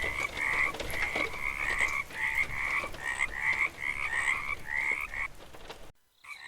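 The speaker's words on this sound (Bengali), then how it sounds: "আর শুরু হলো ব্যাঙের চিৎকার" Frogs croak in a village after rain, a steady rhythmic chorus of repeated calls that runs for several seconds before cutting to silence.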